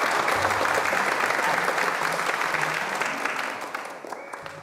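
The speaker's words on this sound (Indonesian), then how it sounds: "Ayo tepuk tangannya." Applause from a gathered crowd at a village burial scene in a horror film, a dense burst of clapping that thins and fades toward the end, with faint voices underneath.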